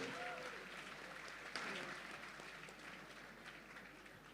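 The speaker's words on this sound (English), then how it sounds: "Let's give him a big round of applause." Faint, distant applause from a dinner event audience, a steady wash of clapping that thins slightly over four seconds with a brief voice near the start.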